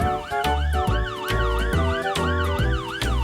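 A fire engine siren in the Roblox video game wails loudly and continuously, a rapid up-and-down electronic yelp repeating in close rhythm with a steady low rumble underneath, heard alone and near.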